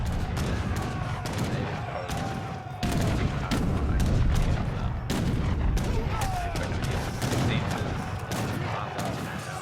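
Mortar and gunfire during an Age of Empires III battle, dense continuous crackling volleys and thumping booms with sharp bursts throughout, loud and busy, with faint talk underneath.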